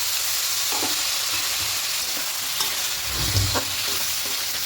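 Water poured into spice paste and stirred in a pan for a vegetarian khichuri, a constant frying sizzle with scraping stirs and a low bubbling burst midway, close and without talk.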